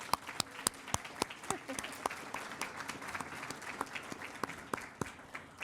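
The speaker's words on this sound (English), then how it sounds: "A round of applause for" Business event audience gives a sparse round of applause, scattered individual claps rising and thinning over several seconds, fairly faint and distant in the room.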